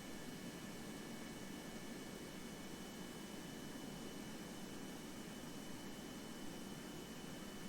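Jet-engine aircraft in the Kerbal Space Program video game, a faint, steady, continuous roaring drone with a thin whine on top that holds unchanged throughout, with no talking.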